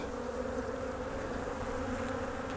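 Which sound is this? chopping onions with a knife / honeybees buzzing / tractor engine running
honeybees buzzing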